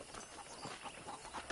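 A horse on a ranch in the Red Dead Redemption video game clip-clops in a steady, even rhythm of hoofbeats. The hooves are moderately close and there is no talking.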